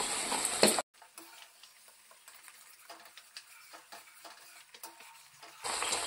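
Spice paste with Kashmiri chili powder and milk frying in oil for mochar kalia, a soft steady sizzle with spoon scrapes and stirring taps, close but quiet, framed by brief louder hiss at the start and end.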